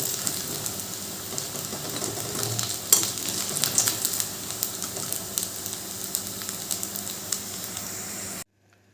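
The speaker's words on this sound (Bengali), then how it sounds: "সব কোপ্তাগুলো ভাজা হয়ে গেল" Steady oil sizzling and crackling of soybean koftas frying in a pan, continuous with small pops, close up, ending abruptly in silence.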